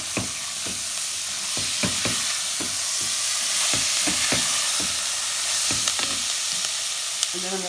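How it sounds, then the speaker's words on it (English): Chickpeas fry in spicy oil in a pan, a steady bright sizzle under sharp clacks and scrapes of a spoon stirring, close and continuous, with no voices. "I'm going to add my chickpeas."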